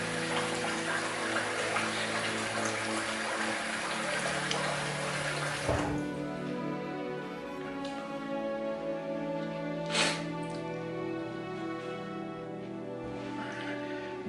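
Water from a tap running steadily to rinse shaving soap off after a shave, a loud close rush that cuts off abruptly, leaving quieter dripping and small splashes.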